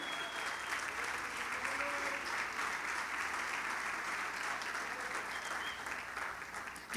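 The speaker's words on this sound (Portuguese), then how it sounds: "Aplaude se é para Jesus, aleluia." Church congregation applauding during a sermon, sustained dense clapping from a crowd that holds steady for several seconds, with faint voices beneath.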